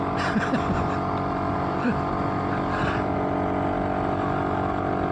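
A BSA D7 Bantam motorcycle runs flat out at full throttle, its small engine droning in a steady, buzzing tone, with wind noise around it.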